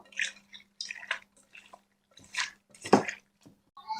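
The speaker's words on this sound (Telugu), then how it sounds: "లాస్ట్లో కల్లుప్పు అండ్ పసుపు కలిపి ఇట్లా బాగా వాష్ చేసుకోండి" Chicken pieces are rubbed and rinsed with rock salt and turmeric, giving a series of wet squelching, splashing and dripping sounds in short bursts, with a steady low hum beneath and no talking.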